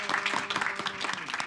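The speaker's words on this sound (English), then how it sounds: "Let's give a round of applause to him." A city council meeting audience gives a round of applause for the city manager, with dense, fairly close clapping running steadily for a moment.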